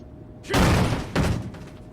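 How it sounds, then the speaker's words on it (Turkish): A magazine change reload in the shooter game Hounds Last Hope: two heavy mechanical clunks about half a second apart, the first louder and longer, with a short tail after each. "Her oyundaki gibi R tuşu, şarjör değişimi, şarjör değişimimiz."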